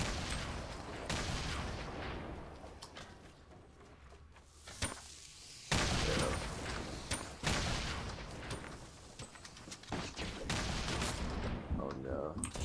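Fortnite gunfire: scattered sharp shots and bursts over a busy game soundscape, some loud and close, others fainter, with a quieter lull in the middle before heavier firing resumes.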